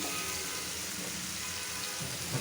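Hilsa fish paturi frying in a pan, giving a steady, close hiss and sizzle of hot oil with soft bubbling that holds evenly throughout, with no talk.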